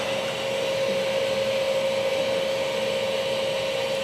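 A paver-cleaning vacuum machine's motor runs steadily and loudly with a constant whine and hum, close by and uninterrupted for the whole stretch.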